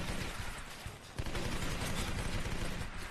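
Dense, continuous gunfire from a first-person shooter game, loud and close, with rapid shots blurring into a steady roar and a sharp burst just past the one-second mark.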